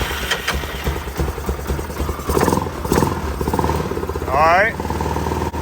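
A Yamaha Grizzly 660 ATV engine runs on choke after sitting unused for almost three years, a steady close idling rumble that rises briefly, with people talking over it.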